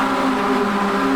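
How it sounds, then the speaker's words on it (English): Mazda MX-5 race cars in iRacing run as a pack on the Daytona oval banking toward the tri-oval, their engines giving a sustained, loud, even high-revving drone with no pause. "Screaming wad of cars down into the tri-oval"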